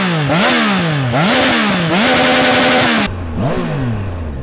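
A Triumph Tiger Sport 660 motorcycle engine revs loud and close in a few sharp throttle blips, each climbing and dropping back to idle, with a throaty, clattering tone and no talk.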